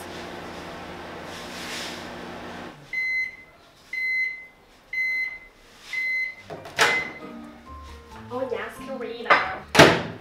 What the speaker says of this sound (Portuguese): você pode dançar ao som do micro-ondas